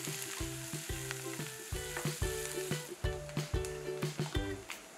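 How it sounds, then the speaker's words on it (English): Chopped onions sauté with whole spices in a pan for a veg handi gravy, a steady close sizzle broken by rhythmic scraping stirs of a spoon, about eight strokes, with no talking. "Let's saute the onions for a minute."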